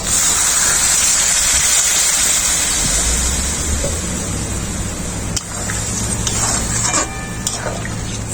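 Water gushes steadily into a pan of vegetarian curry of spiced chana dal and potatoes, with a bright, rushing pour and a few clinks of the pot near the end.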